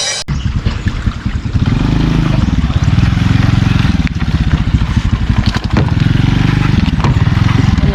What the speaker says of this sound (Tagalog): Motor lang sa akong iuna.